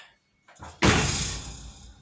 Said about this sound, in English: So let me show you guys how the door closes.